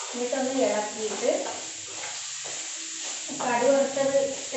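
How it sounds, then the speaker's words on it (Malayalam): Mustard seeds frying in a pan with onion give off a crackling sizzle as they are stirred, rising and falling in bursts, close up under a hiss of steam. "കടുക് വറുത്തത് എല്ലായിടത്തും ആവട്ടെ, ഒന്ന് ഇളക്കാം"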